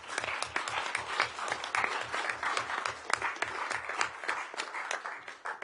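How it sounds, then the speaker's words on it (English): People applaud in a council chamber during a meeting: a brief, soft round of clapping with a faint rhythmic thumping underneath, and the claps taper off at the end. "Not many people get a clap in this chamber"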